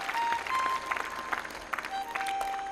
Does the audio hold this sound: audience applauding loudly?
yes